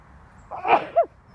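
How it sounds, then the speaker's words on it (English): A single close sneeze from a person: a sharp, explosive burst with a short voiced tail right after, set against a quiet background. "Excuse me, I'm going to sneeze, lovely, bear with."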